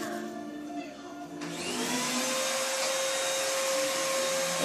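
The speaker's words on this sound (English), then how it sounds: "sorry, my mom's vacuum." A household vacuum cleaner switches on after a quieter start and runs as a loud, steady whine with a sustained tonal hum, filling the rest of the clip without talk.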